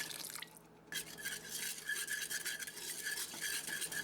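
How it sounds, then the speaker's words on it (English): Roux gravy with beef broth being stirred in a cast iron pot for a Mississippi pot roast, a steady scraping swish of spoon against iron, close and continuous after a brief pause near the start, with no talking. "All we have to do is keep adding broth, a little at a time, and keep on stirring until the gravy is at the consistency we want."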